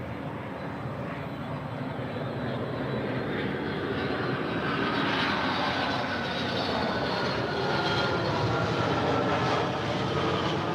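Delta Air Lines Boeing 757-200 from San José, Costa Rica, at LAX, a loud, sustained jet engine roar that swells slightly as the aircraft nears, with no talk over it.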